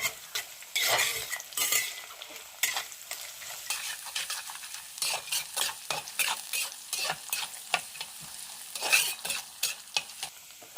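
Small chopped coconut pieces fry in coconut oil while a spoon stirs them, producing repeated scraping strokes over a crackling sizzle in an uneven rhythm, close by with no talking.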